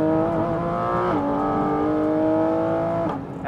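Porsche Weissach GT4 RS engine revving hard to 7,000 rpm, a loud steady high-pitched wail that climbs briefly, holds, then drops as the revs fall, with no talking.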